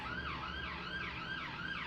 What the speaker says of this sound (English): gonna probably guess you could hear the sirens outside.